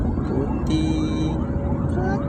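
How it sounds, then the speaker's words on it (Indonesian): An ambulance siren wails along a city street at night in Banda Aceh, loud over steady traffic rumble, its rising tone repeating across the moment. "Ada mobil ambulan."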